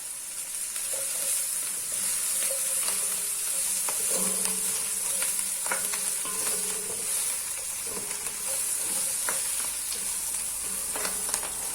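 Browned lamb meat and onions sizzle in a pan, a steady close frying hiss dotted with small pops and crackles throughout, with no talking.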